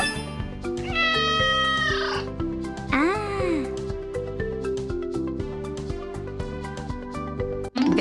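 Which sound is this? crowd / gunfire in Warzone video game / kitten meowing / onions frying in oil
kitten meowing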